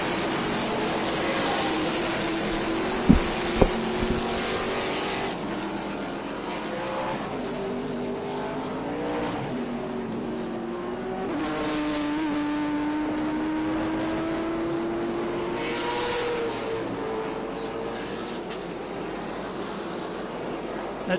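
Trans Am Series race cars roar around Portland International Raceway, engines rising and falling through gear changes as they pass, with a couple of sharp cracks early on and a commentator talking over the continuous engine noise.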